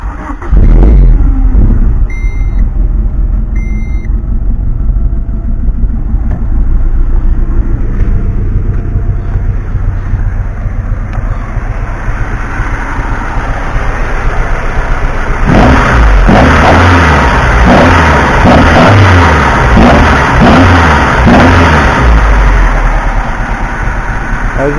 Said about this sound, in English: I'll go ahead and start this up for you guys so you can see what it looks like and sounds like running